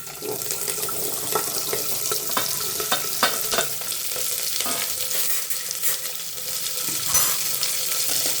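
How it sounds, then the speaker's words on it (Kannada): Sliced onions fry with mustard seeds, cumin and curry leaves in hot oil for a simple onion sambar, a steady close sizzle broken by scraping stirs and light clinks, with no talk. "ಫ್ರೈ ಮಾಡ್ಕೊಳ್ಳೋಣ ಇದನ್ನ."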